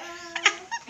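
A pet dog gives a short, faint whimper, two brief whiny yelps within a second, heard close by.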